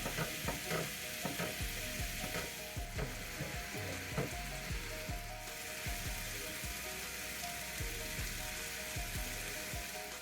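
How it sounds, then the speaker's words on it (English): Ground beef browning in a pan for a sweet potato hash gives a steady, close sizzle and crackle, with occasional scraping clicks from stirring and no talking. "Flatten the beef out and allow it to brown on one side before trying to mix it well."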